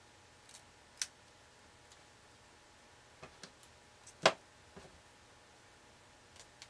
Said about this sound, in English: so I'm just going to trim the excess.